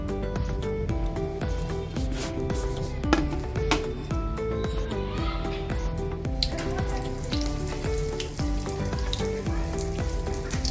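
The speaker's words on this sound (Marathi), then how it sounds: "आपण मिरच्या तळून घेऊया।" Green chillies fry in hot oil in a home kitchen, giving a continuous dense sizzle and crackle with scattered pops, steady and moderately loud with no talk over it.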